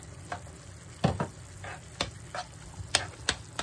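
A spoon stirring pork asado sauce thickened with cornstarch in a pan, giving soft scrapes and light knocks over a faint sizzle, close and quiet, with no talking.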